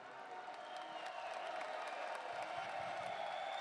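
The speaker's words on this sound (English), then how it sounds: "And they are giving you that applause" Steady, distant crowd applause at an esports finals event, a dense wash of clapping and a few cheers held at an even level throughout, with no one speaking over it.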